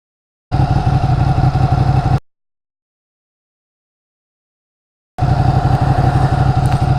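A Ducati Panigale motorcycle engine runs steadily and loudly up close in two separate stretches, each under two seconds, with complete silence between them.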